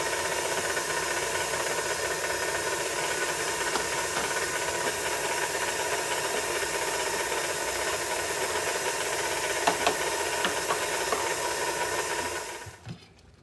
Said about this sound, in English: As soon as I get done turning off the KitchenAid mixer